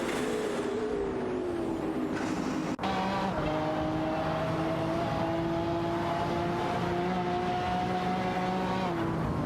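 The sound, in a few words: race cars in a racing video game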